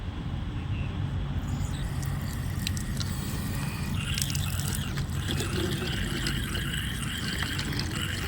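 Drinking water runs from a truck's freshly filled tank into a container, a steady close pour and trickle that carries on for the whole stretch with a low background rumble.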